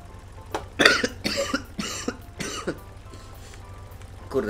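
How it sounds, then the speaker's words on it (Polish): A man coughs in a series of harsh, close bursts, several coughs spaced across a few seconds over a low steady hum, with no talk. "Kurde, co ja tak kaszlę teraz?"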